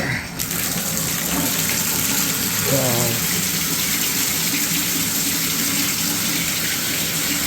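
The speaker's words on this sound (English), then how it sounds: "Now we'll turn it on the shower up here." A shower running during a plumbing service call, water pouring steadily and draining loudly for the whole stretch, with someone talking briefly over the constant rush.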